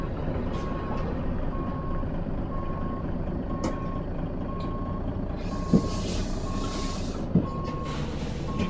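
A heavy truck in American Truck Simulator backs up to a trailer, steady evenly spaced reversing beeps over a constant engine drone, with two brief sharp air-brake hisses near the end.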